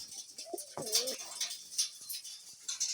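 Pigeons coo softly nearby, a few low warbling calls with light rustling and faint chirps around them.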